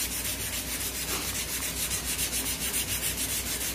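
Steady rhythmic sanding strokes rub across the wooden limb of a 1961 Bear Kodiak traditional recurve bow during a rework, close and continuous with even back-and-forth pulses and no talking.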